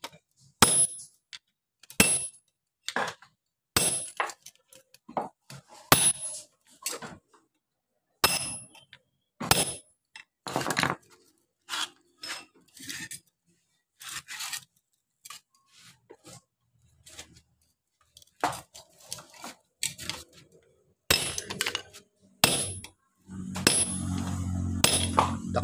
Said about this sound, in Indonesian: ketok-ketok keluar agak melingkar gitu ya, dengan menggunakan pot besar yang sudah tumpul begitu dan menggunakan palu yang agak mantap